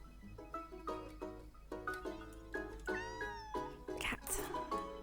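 A series of short, repeated cat meows from the video game Minami Lane, evenly spaced and fairly clear over soft game music, with a higher, stretched mew near the end.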